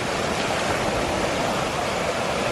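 Johnson Creek running full after rain, a steady broadband rush of flowing water that is even and continuous, heard alone without voices.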